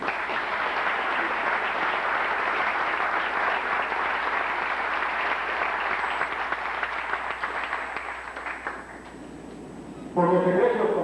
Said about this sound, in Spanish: nos recibimos con un fuerte aplauso